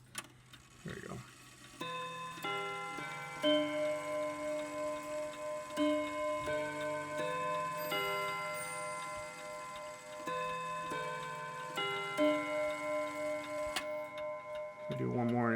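Seth Thomas Sonora Mayland four-rod chime clock from around 1919 chiming a melody of ringing rod tones, each note lingering and overlapping the next, close and clear with no other sound.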